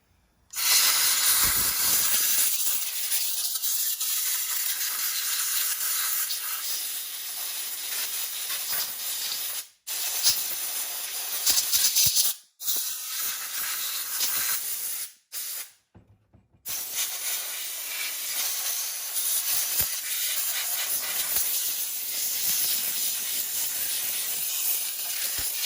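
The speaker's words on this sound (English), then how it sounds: "when you blow out an air filter, you should never blow it out this way" Compressed air hisses steadily through a McCulloch Pro Mac 700 chainsaw air filter in loud, continuous blasts broken by a few short pauses, with no talking.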